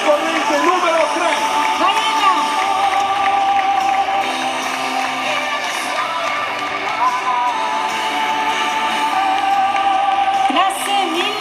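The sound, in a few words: audience applause and cheering for a beauty pageant contestant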